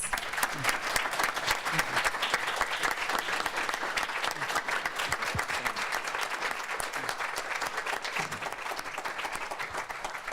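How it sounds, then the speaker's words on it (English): Steady applause from an audience at a fatherhood-support event thanking the speakers, with dense, even clapping that continues for about ten seconds at moderate volume. "Can we give them a round of applause?"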